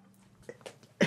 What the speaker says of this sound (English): Oh dear, I'm going to cough again.